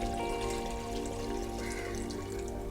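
Water is poured steadily into a cooking pot, a soft continuous trickle and splash heard close up with no talking, as the first step of making a dried ginger coffee drink.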